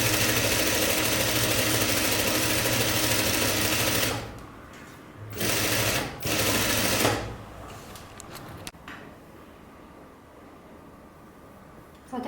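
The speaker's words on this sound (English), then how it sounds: "And sew until it comes back to the beginning point." A sewing machine stitches jumpsuit fabric with a loud, continuous whirring run for several seconds. Two shorter bursts of stitching follow, then the motor stops and the room goes quiet.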